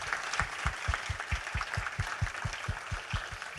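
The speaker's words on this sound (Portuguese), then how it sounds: "uma salva de palmas para eles, para ela, para eles e para elas." Audience at a church-school inaugural lecture clapping in unison, an even rhythmic series of about a dozen claps at a steady pace over a murmuring room background.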